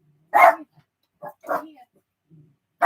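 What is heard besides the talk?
dogs barking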